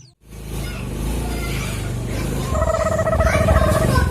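A motorcycle engine idles unevenly close by, with a rough, sputtering rumble that swells slightly toward the end.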